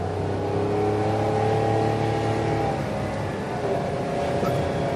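A car labours up a steep hill in the Quantock Hills, its engine droning at low, strained revs and sounding close to stalling, heard steadily throughout without talk.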